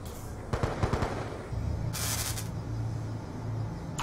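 Gunfire in a competitive shooter video game match, a burst of several sharp shots in quick succession followed by a brief hissing spray, over a low steady game background.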